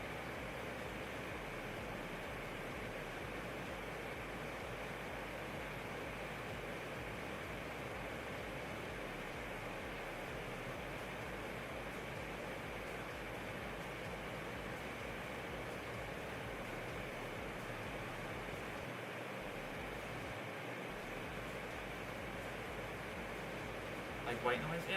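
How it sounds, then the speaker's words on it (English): A stock white-noise sound effect resembling a fan: an even, continuous broadband hiss held at a constant level throughout, with no rhythm or change. "some kind of like a stock noise, stock sound effect. That's just like a fan that sounds like this."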